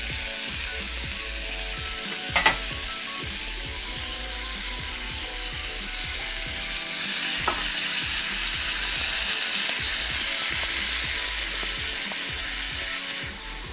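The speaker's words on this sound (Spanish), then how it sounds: "Y ahora le voy a echar la salsa" Salsa poured into a hot pan of sizzling carne ranchera, a steady close frying hiss with a couple of sharp clicks, swelling slightly louder as the liquid hits, no voices.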